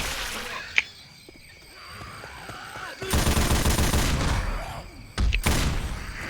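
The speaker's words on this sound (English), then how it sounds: "Oh, you found the minigun. Don't overheat it." A minigun fires in the Left 4 Dead 2 video game, letting out long, loud, continuous roaring bursts of rapid fire after a quieter stretch with one sharp thump, then a short pause before a second burst.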